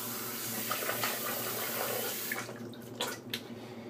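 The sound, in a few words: water rinsing off while shaving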